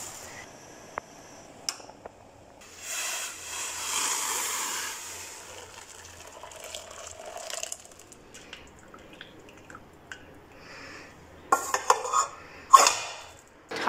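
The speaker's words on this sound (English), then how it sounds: "Now time to drain." Cooked Indomie Mi Goreng Rendang instant noodles being drained, a soft rush of pouring water swelling for a few seconds amid scattered pot and utensil clinks, ending with a few sharper metallic knocks.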